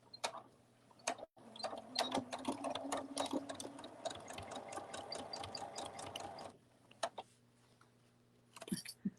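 A sewing machine stitches a fabric cuddle bunny, its needle tapping in a quick, close run of clicks for several seconds, then stopping, followed by a few scattered handling clicks and a faint hum.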